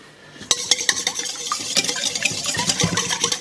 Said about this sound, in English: I'm going to crack my 2 eggs into this bowl, and I'm going to whisk them up with a whisk